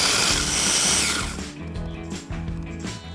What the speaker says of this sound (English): And then I'm just using a food processor.